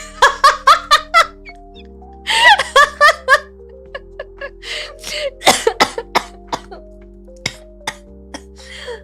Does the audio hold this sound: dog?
no